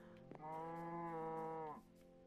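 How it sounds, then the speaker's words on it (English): A single sustained cow moo from the video game Minecraft sounds close and clear, holding steady for over a second before cutting off, with quiet game ambience around it. "Well, the cow seems to agree."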